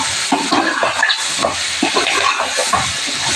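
Drumsticks and okra fry with onions and green chillies in a pan for munakkaya sambar, a loud close sizzle running throughout while a spoon stirs and scrapes in an uneven rhythm.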